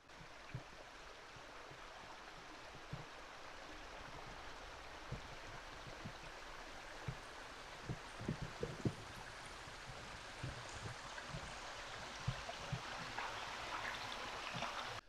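A creek flows beneath an old iron bridge in a Pacific Northwest forest, a steady broadband rush of water heard from above, with faint scattered knocks and bumps over the continuous wash.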